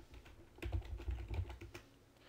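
Login and password typed on a computer keyboard, a quick, quiet patter of close key clicks with no talking.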